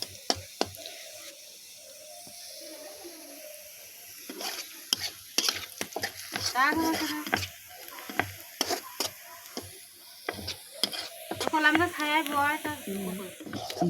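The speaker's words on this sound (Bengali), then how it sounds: "পিঁয়াজ রসুন পিঁয়াজ ভাজে নিচ্ছে" Onions and garlic frying in a pan with steady sizzling, frequent stirring and scraping clatter, and people talking intermittently over the cooking.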